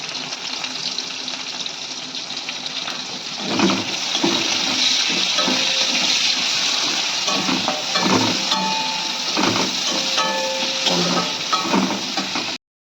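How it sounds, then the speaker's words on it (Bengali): Bay leaves and chopped onion fry in oil on a home stove, giving a steady close hiss and sizzle with occasional clinks and stirring knocks. "এবার আমি ওই তেলে তেজপাতা দিয়ে দিয়েছি আর দিয়ে দেবো পেঁয়াজ কুচি"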